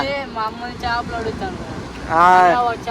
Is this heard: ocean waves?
yes